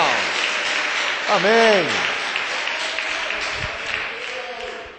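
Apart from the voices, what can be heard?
church congregation applause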